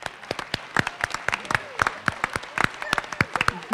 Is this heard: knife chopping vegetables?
no